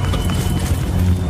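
Horse hooves clip-clop in a steady, close rhythm, with dense low thudding filling the whole short stretch and no voices.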